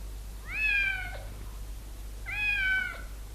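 A cat meows twice in a French radio drama, two drawn-out, clear cries about a second and a half apart over a low steady hum.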